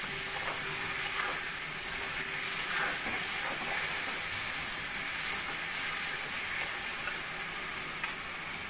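A paste of tomato, ginger and dried red chili sizzles and fries in a hot pan as the spice mixture is stirred, a steady bright hiss with occasional soft scraping, no talking.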